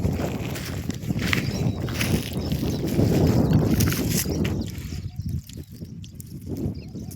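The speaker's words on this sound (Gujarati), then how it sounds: "આજ થોડોક પવન છે વળી।" Wind blowing across an open farm field where sesame has just been harvested: a steady, rushing broadband roar with some microphone buffeting, easing off toward the end.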